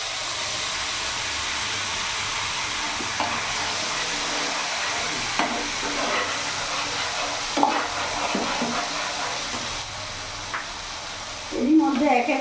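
A spice paste of ground mustard, green chilli and white and black mustard goes into a pan with nigella seeds for a fish and aubergine dish, sizzling and hissing steadily throughout with occasional stirring scrapes and a louder burst near the end.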